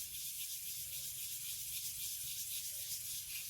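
Sandpaper rubbing over a jesmonite terrazzo candle holder, a steady continuous scratchy hiss that runs unbroken throughout at close range, with no talk.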